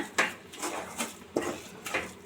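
A spoon scrapes and stirs a thick coconut burfi mixture in a metal pan, rhythmic close scraping strokes repeating about every half second.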